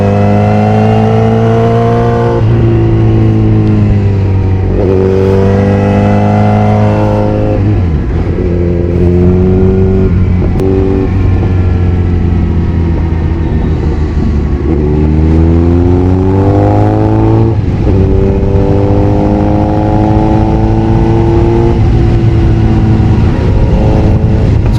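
A motorcycle engine revs loud and close through a corner, its pitch rising and falling in repeated throttle swells as the rider rolls on and off the gas, with no talk over it.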